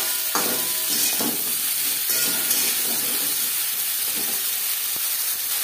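Cauliflower fries in a pan with salt and turmeric powder, making a continuous hissing sizzle close by, with faint stirring taps under the frying.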